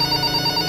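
Telephone ringing in a hospital horror video game, a steady electronic ring tone, clear and close, heard alone in a short burst.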